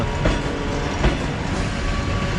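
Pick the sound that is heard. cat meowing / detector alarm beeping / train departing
train departing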